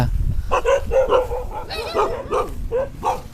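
A dog out in the rice fields gives several short yips and barks in a loose series at moderate distance, with faint whimpering tones and a quiet voice nearby.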